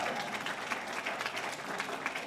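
An audience applauds at a documentary screening awards event, a dense, even patter of clapping at moderate volume with no voices over it.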